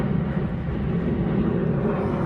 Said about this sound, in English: So this has been like a full episode of me trying to figure out if I'm actually filming the airplanes or not.